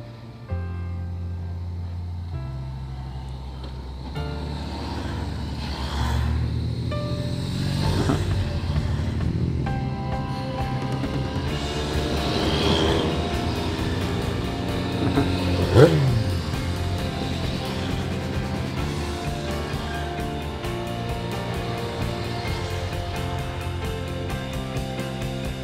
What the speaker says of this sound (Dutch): daar komen ze hoor, de motortoertocht Oranje Loop